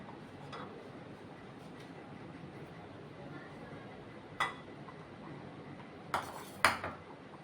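A spoon clinks a few times against a bowl while masala kachumber salad with chopped vegetables and coriander is mixed. The strikes are brief and sparse, each sharp and fairly close, over a quiet room background.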